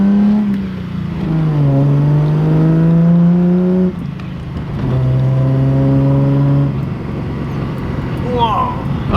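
A Datsun 280Z on fresh new tires accelerates hard down a straightaway, its engine note climbing through two gear pulls with a brief shift break between them, loud and close from inside the car.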